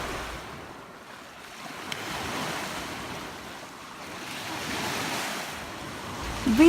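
Lake Michigan waves washing onto a sandy beach, a soft continuous surge that rises and falls in gentle swells under light wind, fairly distant and calm.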